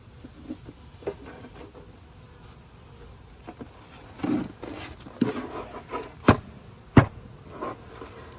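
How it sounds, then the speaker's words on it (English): Honeybees buzz around an open Cathedral hive during an inspection, a soft, steady hum close by, broken by scattered knocks and thumps from the frames. "Try to knock a lot of the bees off."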